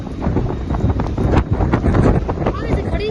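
Strong storm wind during heavy rain, with parked scooters rocking in the gusts, roars and buffets the microphone in a loud, continuous rush while someone talks over it.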